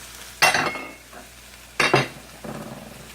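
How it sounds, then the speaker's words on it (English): Cajun chicken, rice, mushrooms and Louisiana sausage stirred in a pan, three short scraping sweeps with soft sizzling in between, close and fairly quiet. "Stir that around."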